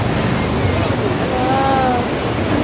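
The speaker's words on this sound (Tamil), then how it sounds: "தண்ணி எப்படி போகுதுன்னு தெரியுதா?" Rushing water flows steadily outdoors at a family day out, with a constant broadband wash close to the microphone and wind buffeting, and faint voices underneath.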